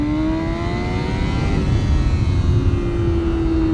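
A modded motorcycle accelerates hard, its engine note climbing steadily in pitch as it pulls, loud and close with rough, gritty exhaust texture and wind rush throughout.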